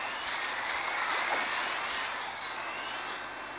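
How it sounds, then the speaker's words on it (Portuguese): An airplane passes over the water in Hungry Shark World, a steady broad engine roar that holds at moderate loudness and drifts slightly as it flies by, with no talking over it. "Olha o avião, viu?"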